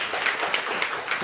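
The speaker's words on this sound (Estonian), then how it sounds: "Suur aplaus talle." Steady applause from a crowd, a continuous wash of clapping with no voices, lasting only a moment.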